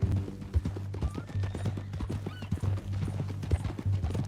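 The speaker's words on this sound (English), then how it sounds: "That a new horse?" A horse's hooves clip-clop in Red Dead Redemption 2, an uneven run of close, moderately loud strikes with a faint whinny, no talking over them.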